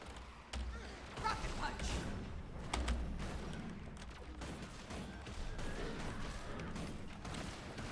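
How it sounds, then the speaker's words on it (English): Rocket punch attack in the video game Guild Wars 2, heard as a few heavy thumping impacts within dense, continuous game combat noise, with a voice talking over it. "Rocket punch."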